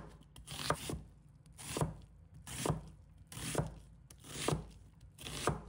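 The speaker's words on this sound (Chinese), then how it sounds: "再准备半个洋葱，把它切成小块。" Half an onion is chopped into small pieces with a knife on a cutting board, about six evenly spaced, close chopping strokes with quiet pauses between them.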